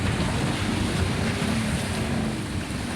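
Dense, steady roar of ocean waves and wind, a continuous wash of noise close by with no talking.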